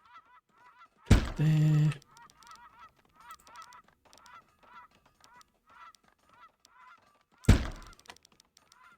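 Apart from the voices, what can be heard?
geese honking in Farthest Frontier video game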